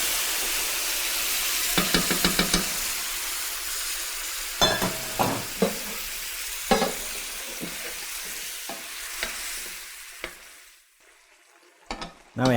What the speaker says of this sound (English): After adding my brown roux, then I add brown stock.